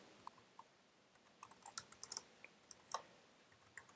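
Typing on a computer keyboard, a scatter of light, quick key clicks in irregular bursts, faint and close with no speech.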